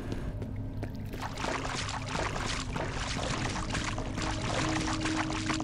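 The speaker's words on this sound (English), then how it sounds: "Why did someone just drop in the water?" Someone drops into water in the first-person shooter game F.E.A.R.: a burst of splashing gives way to continuous sloshing and pouring water, fairly loud and near, with no speech.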